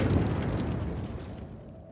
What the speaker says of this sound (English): A frag grenade explosion cuts off the rest of Sergeant Word.